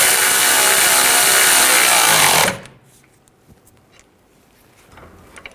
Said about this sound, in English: I'm going to tighten this nut and bolt down